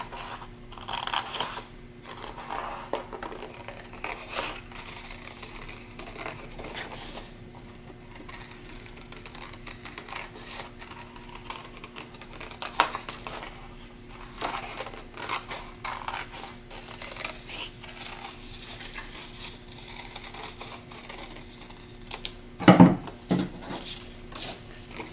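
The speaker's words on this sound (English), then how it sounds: "So I'm just going to cut it out of the black cardstock." Scissors cut through black cardstock by hand, making faint, intermittent snips and paper rustles over a steady low room hum, with a slightly louder cluster of cutting near the end.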